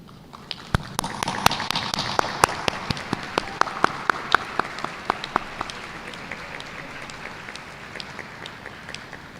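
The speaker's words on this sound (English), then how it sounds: "remain standing as we give a round of applause to these individuals who have supported you" A graduation commencement crowd applauds with sharp scattered claps over a dense wash of clapping, loud at first and thinning gradually toward the end.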